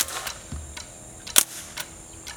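An empty Ruger 10/22 air rifle dry-fires with a sharp, brief mechanical snap, followed by faint clicks and handling noise close by.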